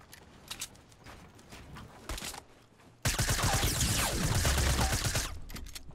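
Dense Fortnite gunfire erupts from two sides at once, swelling into a loud, continuous fusillade of overlapping shots. Scattered lighter shots and footsteps come before it.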